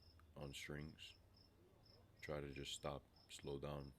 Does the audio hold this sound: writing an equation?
no